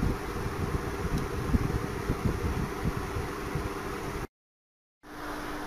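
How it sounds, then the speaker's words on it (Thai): A ventilation fan switched on by a CPLD timer controller runs with a steady broadband whoosh and low rumble, briefly dropping to silence before resuming. "พัดลมระบายอากาศทำงานนะครับ"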